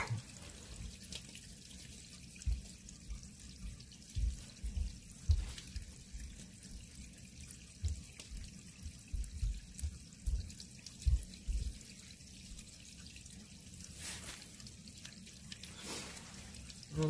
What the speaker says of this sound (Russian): Журчит запасик воды, который в баке находится